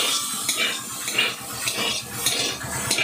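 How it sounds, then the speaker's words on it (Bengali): Beans and carrots fry in a pan for khichuri, heard as an irregular clink and scrape of a utensil stirring against the metal pan over a soft background hiss. "বিনস আর গাজর দিয়ে দিলাম, দিয়ে আমরা ভেজে নিচ্ছি"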